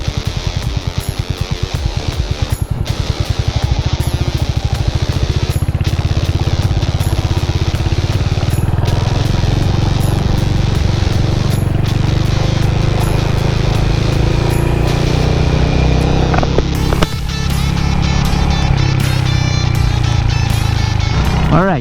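A Royal Enfield Hunter 350 motorcycle on the move, its single-cylinder engine thrumming loud and steady up close with rising and falling revs and wind rush, no speech over it.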